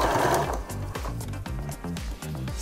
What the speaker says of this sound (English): you can start just top stitching, making sure the two layers and the binding are joined together